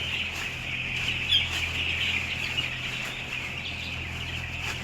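Many small young chicks on a farm, a dense steady chorus of high peeping and chirping close by, with a constant low hum underneath and no talk.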